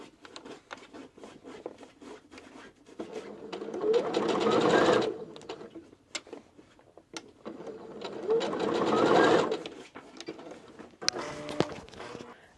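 Sewing machine stitches around a small fabric holiday stocking in two long bursts of rapid, steady whirring, close and loud, separated by quieter ticking and handling sounds.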